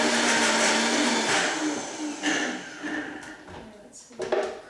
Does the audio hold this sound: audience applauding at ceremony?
no